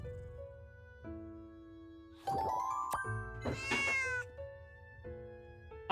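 A cat in the video game Little Witch in the Woods lets out a couple of short, bright meows midway, loud and close over light looping game music.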